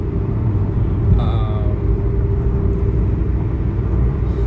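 Car driving noise heard from inside the moving car, a constant low rumble and road roar that fills the whole stretch at a steady loud level, with a brief faint tonal chirp partway through.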